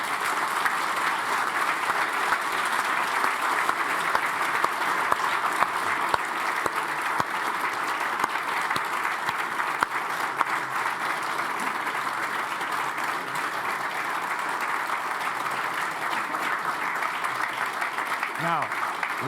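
An audience claps steadily and warmly after a speech at a public debate on Brexit, a dense, even wash of applause sustained without a break.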